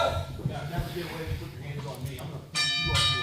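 Wrestling ring bell rung to start a match at a live independent wrestling show, a bright metallic clang arriving near the end after crowd noise and commentary.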